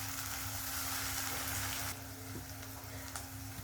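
Tomatoes sautéing in a pan for a green gram gravy, a steady close sizzle and hiss that runs throughout and eases slightly in loudness partway, with no talking over it.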